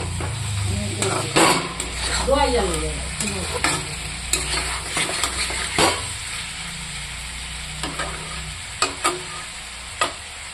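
Spice paste cooked down with a splash of water in a pan, a close sizzle under frequent scraping stirs and bubbling, with occasional utensil knocks.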